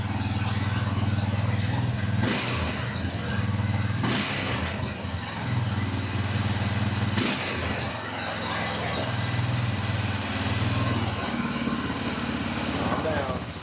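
A beat-up quad ATV engine idles roughly, then revs up repeatedly in several distinct bursts, each a loud rising roar falling back to a lumpy, galloping idle, close by with voices at times.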